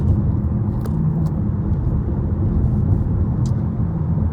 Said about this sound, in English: There's a lot of traffic on the road